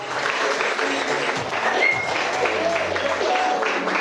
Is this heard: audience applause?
yes